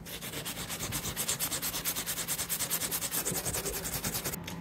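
Hand sanding of a 1995 Pontiac Firebird T-top headliner with 220 grit sandpaper makes rapid, rhythmic back-and-forth scratchy strokes, close and fairly quiet, with about ten strokes a second and no voices.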